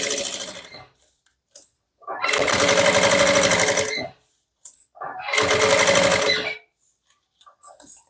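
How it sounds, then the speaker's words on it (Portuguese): Sewing machine stitching a handmade bag, running in three bursts of steady rapid mechanical whirring with short pauses between them, close and loud, with no voices. "Agora é só costurar retinho."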